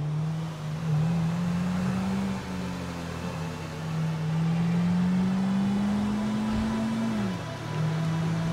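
A car engine in the game GTA V, a steady loud drone that holds a low pitch and slowly rises as the car speeds up, then dips briefly before settling again, with no talk.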